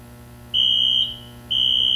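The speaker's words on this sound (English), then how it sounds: "We have no control over the fire alarm. Apparently it's from downstairs." A school building fire alarm sounds during a high school football game, two loud, steady electronic tones about a second apart, each holding for half a second over a constant background hum.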